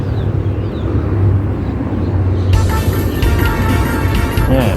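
Outdoor background noise, then music suddenly starts playing from a scooter's small built-in Bluetooth speaker halfway through, tinny and fairly loud.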